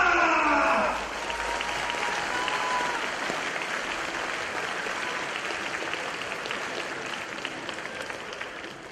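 Audience applause at the Silesian MMA 10 gala, a large crowd clapping steadily after a brief moment of loud voice and music at the start, sustained and gradually easing off.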